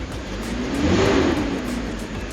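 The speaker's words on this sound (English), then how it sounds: "Motor sounds much better" A BMW 330Ci engine idles and then revs up and settles back, a steady mid-pitched drone swelling in the middle of a short stretch with no talk.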